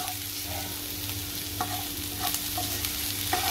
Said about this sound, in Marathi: चांगले परतूया आपण आलं लसूण वगैरे।